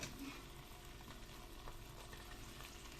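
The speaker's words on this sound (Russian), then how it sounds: "Немного масла в сотейник. Разогреваем. Мясо сварилось. Я выкладываю его в сотейник. К маслу." Boiled beef sizzling and frying in hot oil in a sauté pan, a steady close crackle with a few brief stirring clicks, no voices.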